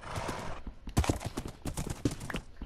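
Horse hooves in Minecraft, a run of quick clip-clop beats in irregular clusters, fairly quiet and close, with a short pause before the steps resume.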